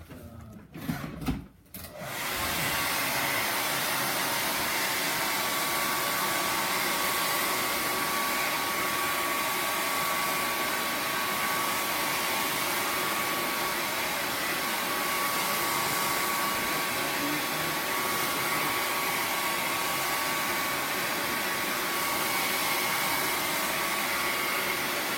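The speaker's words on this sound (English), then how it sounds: "I'm going to dry this really quick with the hairdryer" A handheld hairdryer blows air over freshly applied paint on a handmade stencilled welcome sign, a steady loud whooshing drone running unbroken for nearly the whole stretch after a brief clatter at the start.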